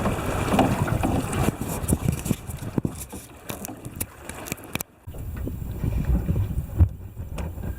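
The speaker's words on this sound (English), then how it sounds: "here we are at Funnel Bay, just sitting in the wind, and we're going to give the dinghy another try" Wind gusts around a small aluminium tinny dinghy at anchor in Funnel Bay, a rough, uneven roar buffeting the microphone with brief lulls and occasional knocks and sloshes.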